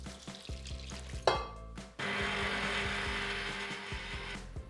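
Gluten-free, dairy-free waffle batter is mixed with milk and cinnamon by a whisk or spoon in a bowl, giving a soft, steady scraping and sloshing after a few light knocks, close and quiet with no speech.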